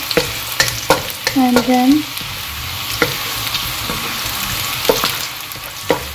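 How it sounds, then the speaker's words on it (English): Ginger and garlic sauté in oil in a big pan, giving a loud, steady sizzle broken by repeated spatula scrapes and clatter. A voice speaks briefly near the start. "just saute ginger garlic in some oil in a big pan"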